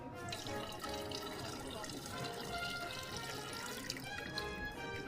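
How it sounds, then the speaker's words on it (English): Rinse water from a Chemex coffee brewer splashes and trickles into a sink, a close, steady pour of running liquid lasting several seconds. "Go ahead and take any of the water in your brewer, and you can just dump that right out in your sink."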